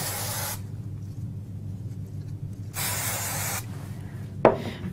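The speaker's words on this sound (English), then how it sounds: "use a bit of spray glue on the back" Two bursts of spray glue aerosol hiss, each lasting about a second or more, close by and steady, with a sharp tap near the end.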